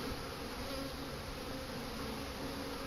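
Honeybees hum in an opened hive during a spring hive inspection, a faint, even, continuous buzz with no breaks, heard close and alone.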